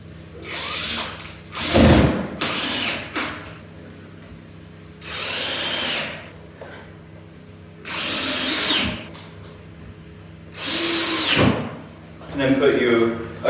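A power drill drives 1 1/4 inch screws into wood, several loud whirring bursts of a second or two each with pauses between them, and quieter handling sounds in the gaps.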